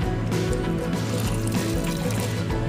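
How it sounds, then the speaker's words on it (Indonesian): Water poured over a potted aglaonema plant gives a continuous soft splashing and trickling at close range. A steady low hum runs underneath throughout. "Siram sama air."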